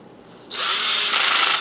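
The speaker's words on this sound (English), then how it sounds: "get a drill with a torque meter and set it to 1, and then you go ahead and you screw it in" A power drill with a torque setting whirs up abruptly and runs for about a second, close and loud, while screwing together gigaminx puzzle pieces.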